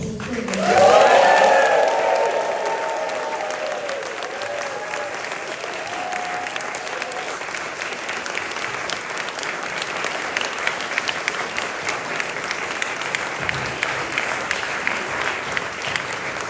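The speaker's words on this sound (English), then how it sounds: "Can we have one big, massive applause for all the children?" Audience applause for children at a Christmas concert, a loud burst of clapping that swells in the first two seconds and then carries on as steady, dense clapping for the rest.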